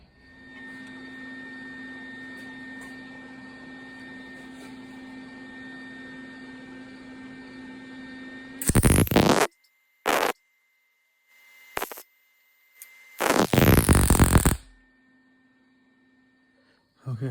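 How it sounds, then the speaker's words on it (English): A welder tack welds a metal gate, making two long crackling, hissing bursts and a couple of brief sharp zaps, close and loud against a steady background hum. "So now I'm going to tack weld this one in place."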